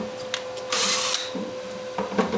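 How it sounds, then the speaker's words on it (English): A power drill bores a hole through the middle of a stick, a loud whirring burst near the start that eases off, followed by a couple of shorter drill bursts. "I drill a hole directly through the middle."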